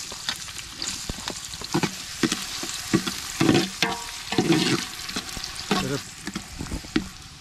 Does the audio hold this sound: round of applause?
no